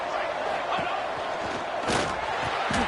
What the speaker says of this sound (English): And this crowd is deafening, trying to will the stop.